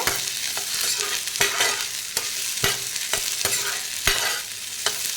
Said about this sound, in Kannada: ನೋಡಿ ಈಗ ಫ್ರೈ ಆಗ್ತಿದೆ.